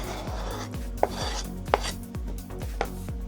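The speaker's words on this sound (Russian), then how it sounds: "Зелень с чесноком мы нарезали." Rhythmic knife chops through fresh herbs and garlic on a board, evenly spaced close thuds with a few brighter clicks of the blade, no voices.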